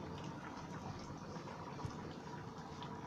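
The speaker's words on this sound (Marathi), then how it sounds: "आता या पाण्याला कड येऊ द्यायचा" Water heating in a pot toward a boil for pani puri water, a steady low bubbling and rumbling wash that holds evenly throughout, faint and continuous with no one speaking.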